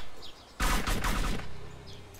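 Burst of gunfire in DayZ Standalone, a loud, dense volley of several rapid shots lasting about a second after quiet with faint bird chirps, trailing into a fading echo.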